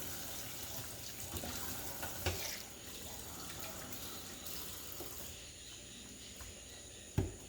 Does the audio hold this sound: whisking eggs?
no